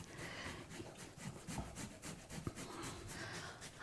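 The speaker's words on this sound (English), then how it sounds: "we're just gonna grate that all in" Fresh ginger rubbed back and forth over a fine grater in a kitchen, making quiet, rhythmic rasping strokes that repeat steadily in close succession.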